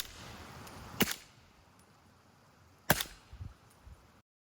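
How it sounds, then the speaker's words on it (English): Two sharp suppressed shots from a 300 Blackout rifle fitted with an Allen Engineering AEM 530 suppressor, each a quick crack with a short tail, followed by faint mechanical clicks of the action cycling. "provide video evidence of just how quiet this build can be when paired with his Allen Engineering AEM 530"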